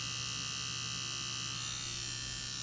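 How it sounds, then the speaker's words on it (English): An Easy Tattoo Supply nano tattoo machine runs steadily with a constant close electric buzz and hum, unbroken through the whole stretch, with no voices over it. "these nano tattoo machines from Easy Tattoo Supply. I'll do a little bit of shading here."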